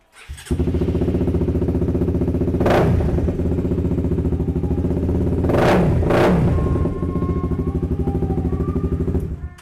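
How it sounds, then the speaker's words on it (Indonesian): A 250cc sport motorcycle with a racing exhaust fires up and idles with a loud, raspy, rapid burble, then gets three sharp throttle blips, the last two close together, before settling back to idle. "Kita cek sound. Knalpotnya racing."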